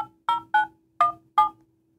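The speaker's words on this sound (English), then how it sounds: "I'm going to dial 9 for an outside line, my 1, and then the rest of my phone number." Five short telephone keypad tones are dialed in an uneven rhythm while placing a call through the Reach phone app, each beep crisp, close and alone, with silence between them.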